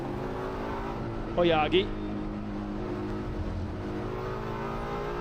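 Super GT race cars, a Nissan GT-R and a Ferrari, run at Okayama circuit, their engines droning steadily at a distance beneath a commentator's voice, with a brief sharper shift partway through.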